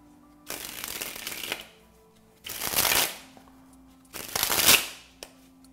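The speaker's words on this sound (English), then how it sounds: "that's the card spring" Playing cards sprung from one hand to the other in a card spring, three separate fluttering bursts of rapid riffling, each about a second long, close and crisp with pauses between.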